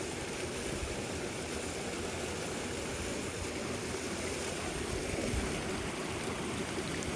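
Steady, dense rush of hot spring water tumbling over a small hot waterfall at Fifth Water Hot Springs on a winter night, constant and full-bodied with no talk.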